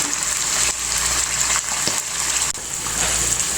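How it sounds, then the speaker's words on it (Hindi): Chicken fries in a karahi pan for Afghani karahi, a steady loud sizzle with crackling spatter throughout. "और चिकन को कलर आने तक पकाएंगे।"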